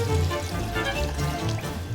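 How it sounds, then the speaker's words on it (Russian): Water pours in a steady, gurgling stream into a soup pot holding fried paprika for mastava, close and continuous. "Заливайте поскорее в кастрюлю воду."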